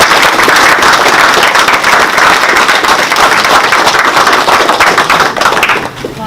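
Dense, steady applause from a virtual award-ceremony audience, loud and continuous throughout, with many overlapping claps and a slight fade at the very end.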